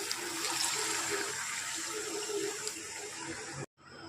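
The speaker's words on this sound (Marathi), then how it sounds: "आता आपण पाणी टाकणार आहोत यात।" Water poured from a glass into a hot pan for upma, a steady close gushing splash over a low sizzle, ending abruptly, with no voices.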